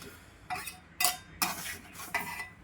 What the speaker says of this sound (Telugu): ఇవన్నీ ఒకసారి బాగా కలుపుకోవాలండి